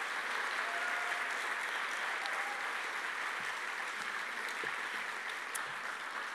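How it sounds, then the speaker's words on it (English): Audience applause at a conference session, sustained, dense clapping from a large crowd, steady and even in level for several seconds, without speech over it. "So give her another round of applause."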